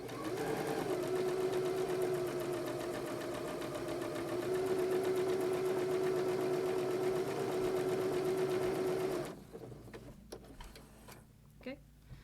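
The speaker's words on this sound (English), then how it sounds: "I'm going to stitch along there with my 1/4 inch seam allowance" A sewing machine runs close and steady for about nine seconds, stitching a quilt binding strip with a quarter-inch seam, its rapid even whir humming beneath a voice, then stops and leaves faint clicks and handling sounds.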